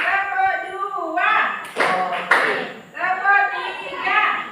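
Classroom of children clapping hands in an ice-breaking counting game, sharp bursts of group clapping between a teacher's spoken counts, close and lively, with voices throughout.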